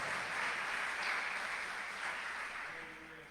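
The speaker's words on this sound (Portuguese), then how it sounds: "Vamos aplaudir ao Senhor Jesus." Church congregation clapping together, a steady, fairly faint wash of applause from a worship hall that slowly fades toward the end.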